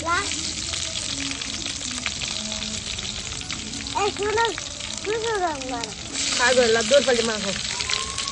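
Onions frying in hot oil for a fish curry, a steady close sizzle with stirring, while people chat nearby throughout.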